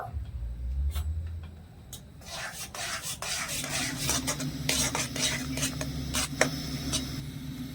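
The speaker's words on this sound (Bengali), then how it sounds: "এবারে গ্যাস জ্বালিয়ে আমি কড়াই বসিয়ে তালটা একটু পাক দিয়ে নেব" Palm fruit pulp being stirred in a wok over a gas flame, with repeated scraping and rubbing strokes of a spatula against the metal over a low sizzle, close and fairly quiet, no talking.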